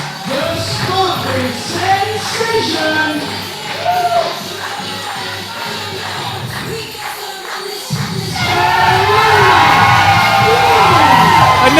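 A wrestling arena crowd cheers, shouts and whoops as a female wrestler comes out for an inaugural Women's Championship match. The sustained, dense noise fills the space and swells louder after a brief dip, with children's yells mixed in.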